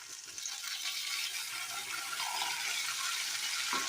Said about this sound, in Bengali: এবার মাছের তেলটা দিয়ে দেব।